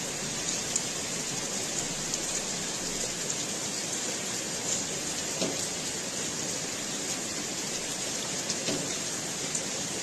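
Steady rain falling over a city neighbourhood, a dense, even hiss of drops on surfaces with a few sharper drips, continuous throughout and alone.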